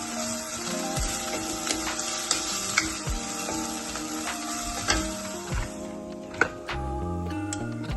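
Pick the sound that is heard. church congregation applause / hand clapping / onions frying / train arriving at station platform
onions frying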